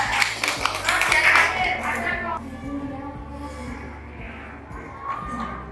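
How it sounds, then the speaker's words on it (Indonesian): A classroom group gets a burst of clapping from students, brisk and fairly close for the first two seconds, then trailing into scattered claps, shuffling and murmuring. "Silakan dulu tepuk tangan buat kelompok"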